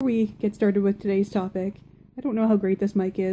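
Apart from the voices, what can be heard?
No everyday noise stands out behind the speech.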